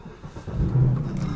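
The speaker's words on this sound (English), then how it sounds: "I'm gonna get back in the car because I've turned it off. I'm gonna turn it back on." A Mercedes C63 engine turns over and catches, the starter churn rising into a brief revving idle, close and fairly loud, with no talk.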